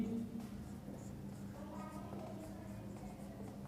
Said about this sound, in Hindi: जैसे मान लीजिए मैं क्वेश्चन लिखता हूं